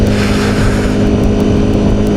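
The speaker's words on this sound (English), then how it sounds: "Now we're de-restricted, we can open the throttle a bit and see what happens." A carbureted motorcycle engine, freshly de-restricted, drones loud and steady under open throttle while riding at around 30 mph, with heavy wind rumble and no speech.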